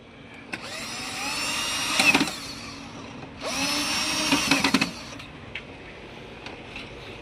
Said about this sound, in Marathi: ही जी स्क्रू टाईट करायची मशीन आहे